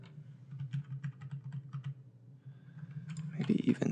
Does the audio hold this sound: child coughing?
no